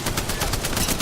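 Rapid automatic gunfire in the battle royale game Apex Legends, a dense burst of evenly spaced shots at close range with no talk over it.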